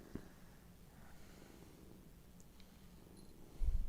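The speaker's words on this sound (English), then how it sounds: "he purrs more than just when he's downstairs now" A pet cat purrs close by with a soft, steady low rumble that runs throughout, followed by a louder thump at the very end.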